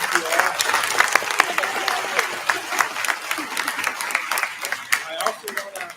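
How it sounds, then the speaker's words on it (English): Audience at a youth symphony winter concert in Tennessee breaking into sustained applause: dense, steady clapping from a sizable crowd lasting several seconds, with a little crowd noise mixed in. "So big round of applause to them."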